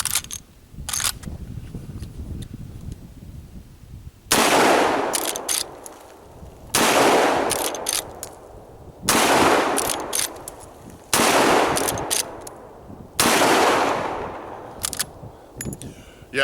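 Five loud, sharp rifle shots from a used Marlin 336 lever-action in .35 Remington loaded with 200-grain Hornady Lever Evolution rounds, spaced about two to three seconds apart, each with a long ringing tail and lever-cycling clicks between.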